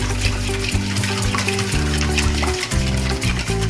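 Palak bhajiya batter of spinach with added sugar being mixed, giving a loud, continuous wet churning and squelching close by, without talk.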